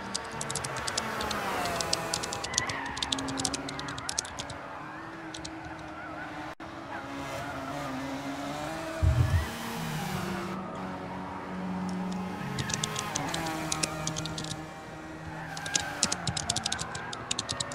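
A GT500 SSR Motorsports Nissan race car in a video game accelerates out of the pits after refuelling. Its engine drones steadily and loudly, with rising and falling pitch and clicking mechanical noise throughout.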